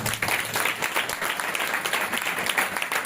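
Congregation at a gospel revival meeting clapping loudly together, a dense, continuous burst of applause at a moderate level without any speech over it.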